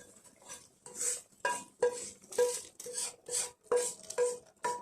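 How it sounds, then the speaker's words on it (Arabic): Fried onion, dill and chard stirred into a pot of mung bean soup, giving a run of rhythmic metal clinks and scrapes of a spoon against the pan, close and steady with no talking. "هسه هنا حبايبي راح اضيف المواد كلها اللي حمسناها، اللي هي البصل والشبنت والسلق"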